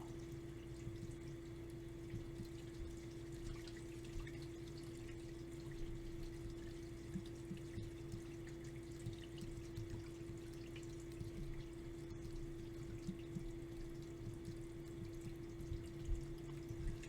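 Steady rushing water among rocks in river rapids near a waterfall, a continuous broadband roar with a constant low hum running underneath, even in level and uninterrupted throughout.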